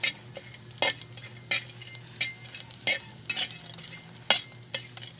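Jackfruit cooking for ginataang langka, stirred in a pan: a soft, low sizzle runs beneath repeated sharp scrapes and clinks of a utensil against the pan, roughly one each second, close and clear with no talking.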